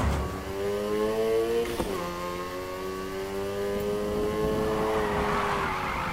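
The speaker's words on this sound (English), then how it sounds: "Drifting." Engine whines and tires squeal as a car slides through a drift in Need For Speed Heat, the revving pitch holding steady, dipping once, then climbing again, loud and close with no talk.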